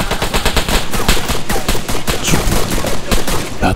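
Gunfire in the video game ARMA III: loud, dense machine-gun bursts rattle continuously with rapid overlapping shots, close and harsh throughout, no talking.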